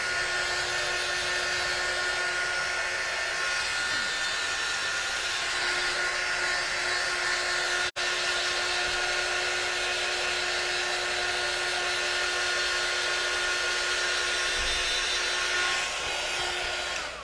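A heat tool blows hot air to dry a craft project, a loud continuous whirring hiss that runs steadily for the whole stretch with one brief dropout midway, no voices over it.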